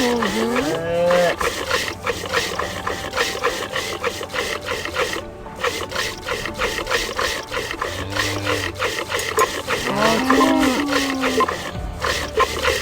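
Cartoonish cow moos from a mobile farm game during a milking minigame, several drawn-out lowing calls rising over a dense bed of game music and rasping effects, no talk.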